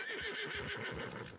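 A horse whinnies in the ranch role-play video game El Rancho RP, a single quavering neigh lasting about a second, fairly close and alone with no voices.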